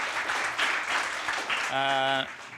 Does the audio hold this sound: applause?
yes